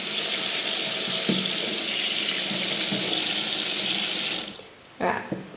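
Makeup brushes rinsed under a running tap, a steady loud gush of water at a sink that cuts off near the end, followed by a brief splash and drip.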